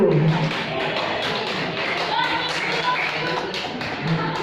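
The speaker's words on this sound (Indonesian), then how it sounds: "Tepuk tangan untuk juara ke-1." An audience applauds the first-place winner at a Bulan Bahasa Indonesian-language competition ceremony in Cimahi, a dense, steady patter of many hands clapping throughout, with some voices and hall noise mixed in.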